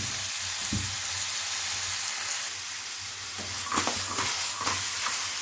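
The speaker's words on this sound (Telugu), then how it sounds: "మళ్ళీ కొద్దిగా పసుపు, ఒక్క 5 మినిట్స్ ఇలా కుదుపుకుందాం." Curry sizzles and fries steadily in a pan after turmeric and salt go in, with occasional scraping and tossing clatters toward the end, close and fairly loud, with no talk.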